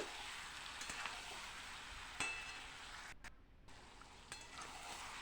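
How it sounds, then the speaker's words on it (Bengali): Katla fish mixture frying with pepper powder being stirred in, a steady soft sizzle with a few faint scrapes and a brief dip in the middle, fairly quiet and close. "গোলমরিচের গুঁড়োটা দিয়ে ভালো করে এটাকে নেড়ে চেড়ে মিক্স করে নিচ্ছি"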